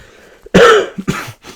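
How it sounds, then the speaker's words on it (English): A single loud, close cough followed by a smaller second one, heard on its own against a quiet background. "Still have a cough, obviously, because I had a cough for like the last 10 bazillion years."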